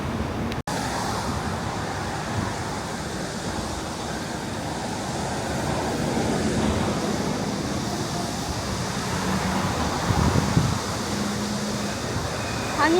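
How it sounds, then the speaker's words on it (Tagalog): Steady wind rushes across the microphone in a peaceful Seoul park, a broad continuous roar holding at an even level throughout, with faint distant traffic mixed underneath. "Hangin na po ang weather."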